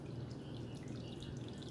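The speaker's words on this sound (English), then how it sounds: "I'm going to strain my lye water because, again, because of the tussah silk that I put in it" Lye water with dissolved tussah silk is poured through a strainer for cold process soap, making a soft, continuous trickle and dribble of liquid, quiet and close.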